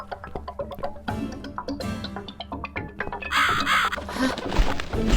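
A bird caws in The Cat Lady game, harsh repeated calls over dark ambient music and other game sounds, moderately loud and close.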